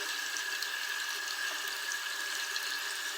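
Water running steadily while face cleanser is rinsed off, a constant hissing stream with a faint hum, close and even throughout.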